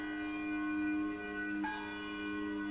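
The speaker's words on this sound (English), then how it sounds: "Old South, which is ringing its bell for the Blast Anniversary service on Boylston Street" Old South church in Boston ringing its bell for the Marathon bombing anniversary service on Boylston Street: sustained, resonant tolling with steady overlapping tones and a fresh strike partway through, alone without talk.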